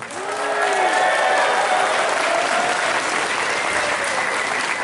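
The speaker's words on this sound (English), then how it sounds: "big round of applause for Megaplex's chairman" Steady, full applause from an audience greeting the chairman at the opening ceremonies of the Megaplex 2019 convention, rising quickly and holding dense and loud throughout, with faint cheers mixed in.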